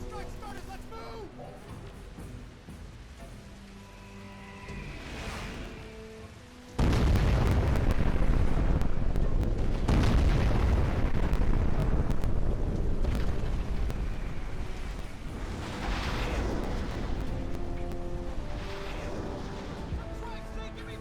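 Airstrike explosions in a war video game begin with a sudden heavy boom, then a sustained, loud rolling rumble with further blasts. Voices are faintly present beneath the din.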